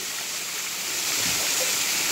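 Water pours and splashes steadily under a waterfall, a loud continuous broadband rush with no pauses.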